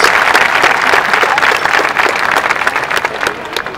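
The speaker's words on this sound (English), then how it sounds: "let's give him a big round of applause" An audience at a ship christening event gives a loud, dense round of applause for the Norwegian CEO, a continuous close burst of many hands clapping.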